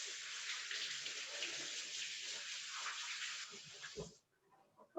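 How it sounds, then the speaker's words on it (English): A single cabbage leaf is rinsed under a steady stream of running tap water, a constant close hiss that cuts off sharply near the end, leaving a few faint handling knocks. "And then you washed it under the water."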